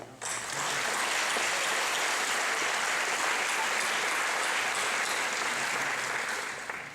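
Audience applause at an art and design college commencement ceremony, a dense steady wash of many hands clapping from a large crowd, sustained for several seconds without a break.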